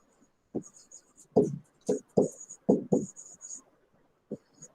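Handwriting an algorithm with pen on paper: a series of close, distinct scratchy strokes in an irregular rhythm, with short pauses between bursts and a faint high squeak over them.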